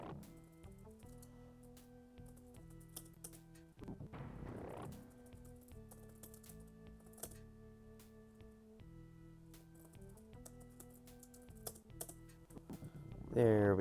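Someone types on a computer keyboard while playing an old dungeon role-playing game, soft scattered key taps at close range beneath steady game music tones.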